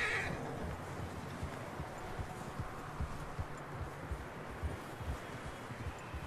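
A horse in the Red Dead Redemption 2 video game gives faint hoof clops and a soft snort over a steady outdoor wind and rustle backdrop.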